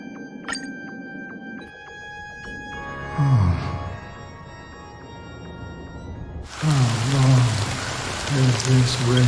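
Steady rain falls in the Honkai Star Rail video game, a continuous hiss running under low game tones and swelling louder partway through, with no talking.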